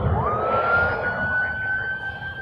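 A paramedic vehicle siren at Toronto Pearson Airport sweeps upward and then holds a steady wailing tone, moderately loud over a low rumble of traffic.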